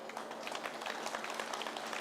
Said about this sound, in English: I think it needs a big round of applause